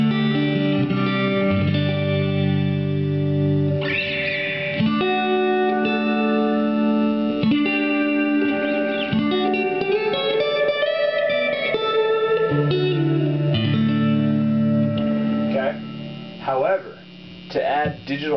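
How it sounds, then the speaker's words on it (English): Guitar amp with real tube-driven spring reverb, heard as sustained harmonic guitar chords and notes ringing out with a washy, lingering reverb tail, played loud and alone with no talking, compared against a Boss RV-3 reverb/delay pedal. "here's a real spring tube-driven reverb in this amp"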